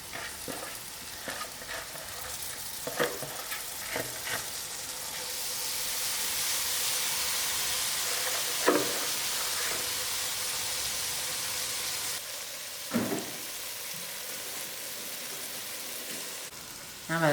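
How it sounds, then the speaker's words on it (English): Soya chunks and soya mince fry in a pan with a steady, close sizzle and hiss that lasts throughout, broken by a few clicks and scrapes from stirring. "allow this to fry for about 15 minutes"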